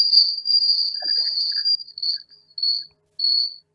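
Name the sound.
cicadas or crickets chirping during a Zoom call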